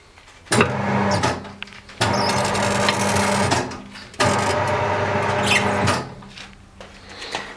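Redats M-111F tyre changer running in bursts, a steady motor hum with grinding mechanical whir, starting and stopping three times with short pauses between runs, close and fairly loud.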